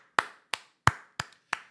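Five single hand claps ring out one at a time at an uneven, roughly half-second pace, sharp and close with short decays and silence between them.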